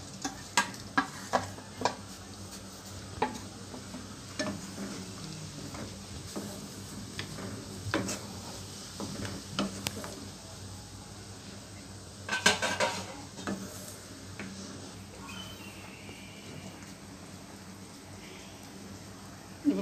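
Onion and capsicum fry in a kadai for paneer curry, giving a soft steady sizzle. A spoon clinks and scrapes against the pan in scattered taps, with a louder cluster of stirring near the middle.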